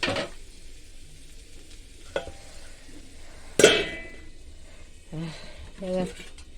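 Onion and green chilli fry in a pan. The sizzle is close and steady, and a spatula stirs and scrapes against the metal in short bursts while someone talks.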